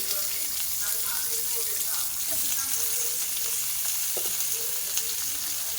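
A large chopped onion hitting hot oil for a chicken curry masala makes a continuous, even sizzle at moderate level, with faint watery background noise and occasional soft kitchen clatter.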